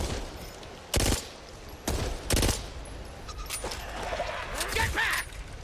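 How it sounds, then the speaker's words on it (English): Beretta burst-fire shots in the video game Back 4 Blood ring out as a few sharp, loud bursts over a swampy game soundscape, followed by fainter clatter. "Here's a Beretta burst."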